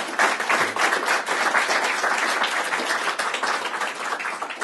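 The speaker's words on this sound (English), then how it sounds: "big hand of applause for these two gentlemen" Audience applause for two gentlemen speaking on a panel about the coal agenda, a dense steady clapping from a crowd that carries on without a break, loud and close, with no voices over it.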